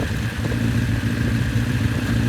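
A 1972 Kawasaki Z1 900cc motorcycle engine idles steadily while warming up, a close, loud, continuous rumble with a slightly uneven, lumpy beat throughout.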